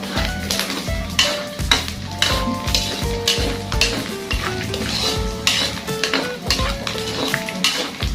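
Bopis frying in a pan as its oil renders out, a loud, close, steady sizzle with repeated clinks and scrapes of a utensil stirring against the pan.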